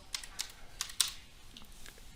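Several quick keystrokes on a computer keyboard, light clicks tapped at an uneven pace, close and quiet, in a search field of municipal permitting software.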